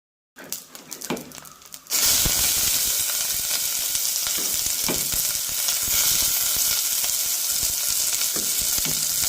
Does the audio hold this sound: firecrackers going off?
no